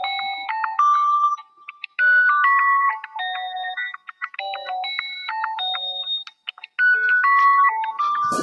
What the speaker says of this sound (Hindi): फोनवा बाजत है